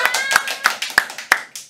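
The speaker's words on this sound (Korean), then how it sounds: "박수" Several sharp hand claps in an uneven rhythm, close and distinct, each burst separated by short gaps, heard in a quiz-style classroom setting.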